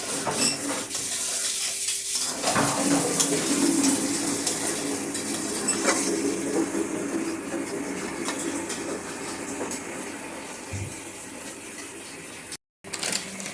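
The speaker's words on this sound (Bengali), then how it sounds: "কাজু বাদাম দিলে নাড়াচাড়ার মধ্যে রাখতে হয়" Cashew nuts are stirred in a hot wok for an egg korma, with a metal spatula scraping and clinking steadily against the pan over a soft sizzle, close up and with no talking.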